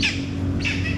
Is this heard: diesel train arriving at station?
no